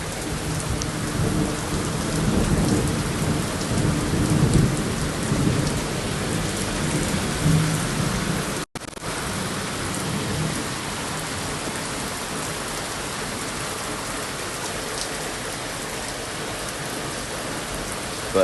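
Steady heavy rain hisses throughout with deep rumbling thunder rolling in the first half, briefly cutting out before the downpour continues alone.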